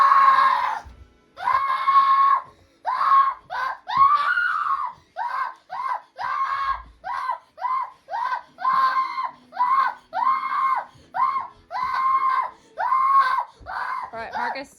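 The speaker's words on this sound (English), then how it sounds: "He was definitely a little bit stressed with all of his noise and whining around." Young F1B cockapoo puppy whining and yelping in high-pitched repeated cries, near and loud, coming in short bursts one after another with brief gaps.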